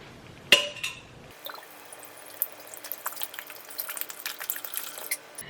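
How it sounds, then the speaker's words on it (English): Vegetable broth poured into a paella pan holding seafood paste and calamari, opening with a sharp clink followed by a steady, soft liquid splash and trickle, close and quiet, with no talk. "We're gonna be adding 5 cups of vegetable broth."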